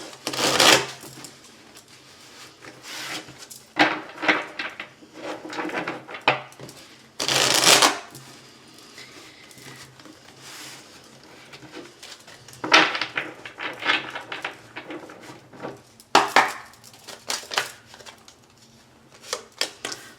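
A deck of tarot cards is shuffled by hand in several bursts of crisp riffling and flicking, separated by brief pauses and quieter handling, close and clear.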